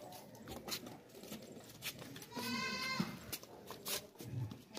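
Goats for sale at a livestock market, a milking goat among them, give a wavering, nasal bleat midway through, set against steady crowd and market bustle.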